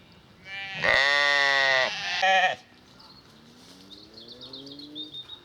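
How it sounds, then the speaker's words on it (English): A sheep lets out a loud, close, drawn-out bleat beside an overgrown footpath between Paddock Wood and Yalding, followed by fainter bleats and bird chirps in the distance. "next to some noisy sheep."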